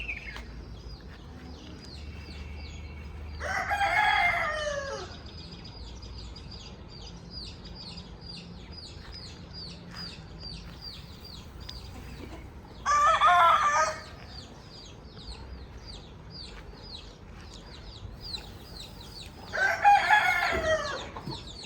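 A small group of five or six chickens coming to eat grain give three loud bursts of clucking and crowing a few seconds apart, with soft clucks and chirps continuing faintly between them outdoors.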